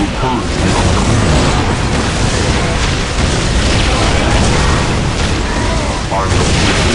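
Shells from a Whirlwind artillery tank in Warhammer 40,000: Dawn of War pound as a dense, loud, continuous barrage of booming explosions filling the whole stretch.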